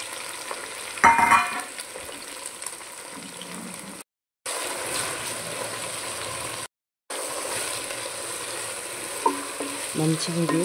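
Finely chopped Malabar spinach hits a hot pan and is stirred, giving a steady loud sizzle with an initial burst, continuing under repeated stirring with two brief silent gaps.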